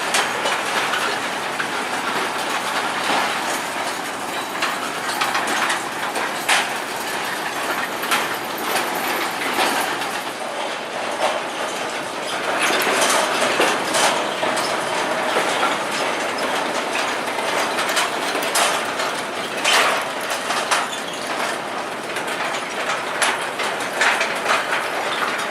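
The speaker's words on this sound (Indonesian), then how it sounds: "lokomotif D14 sama juga membawa rangkaian lori berisi ram" A D14 locomotive on a sugar mill railway hauls a rake of lorries loaded with cane, with steady rolling rumble and clickety-clack of wheels on rail joints running throughout, close and fairly loud.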